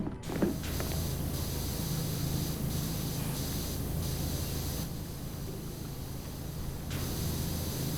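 A video-game power washer sprays steadily for several seconds, a continuous close hiss with slight shifts in tone and brief pauses, with no one speaking.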